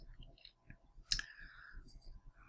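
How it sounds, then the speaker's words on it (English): A single faint computer mouse click during a website login, one short sharp tick amid quiet background noise. "you click on OK"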